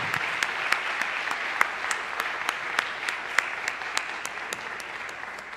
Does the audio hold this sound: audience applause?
yes